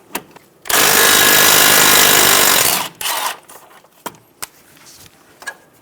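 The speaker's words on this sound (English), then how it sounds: "Using a 12mm socket, remove the bolt for the brake line bracket." A 12mm socket on a power tool spins out the brake line bracket bolt on a 2010-2014 Subaru Outback during front CV axle replacement, one loud sustained whirring burst of about two seconds, followed by a shorter burst and scattered clanks.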